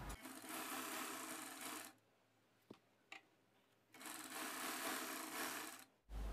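A sewing machine top-stitches around a blouse neckline in two quiet whirring runs of nearly two seconds each, with a pause between them and a few small clicks of handling.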